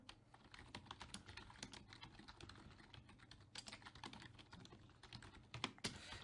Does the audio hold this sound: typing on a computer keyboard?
yes